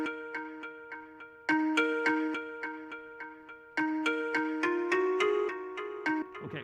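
Xylophone notes are played in Serato Studio with an echo effect applied. The bright mallet strikes fall in quick runs and chords, each one ringing on with repeating echoes. The part plays alone at moderate volume.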